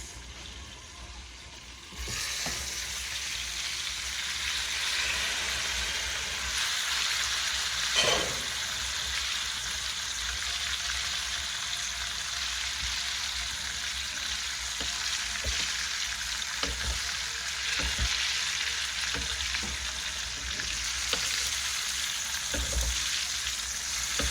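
Food frying in vegetable oil and butter in a pan, a steady close sizzle with occasional stirring scrapes and clicks throughout, no talk.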